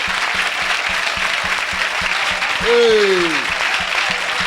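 Congregation at a church miracle-night service applauding and cheering in a steady broadband wash, with a rhythmic drumbeat beneath and a rising then falling shout cutting through partway.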